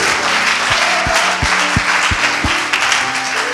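A church congregation applauding together, loud, dense clapping that holds steady throughout, with a few stronger rhythmic claps standing out in the wash of hands.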